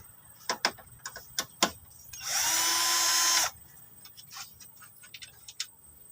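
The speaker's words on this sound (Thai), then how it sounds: "กระบอกเบอร์สิบกับสว่าน เดี๋ยวดูการหมุนกันอ่ะหมุนออก" A few metallic clicks and taps, then a power drill with a 10 mm socket whirs for about a second unscrewing a bolt on a Toyota Revo, followed by more light clicking and handling noises.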